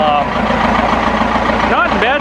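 1980 Chevy K10 with a 4BT Cummins diesel idling after a cold start in snow, a steady loud rattling clatter close by, with a brief squeal near the end.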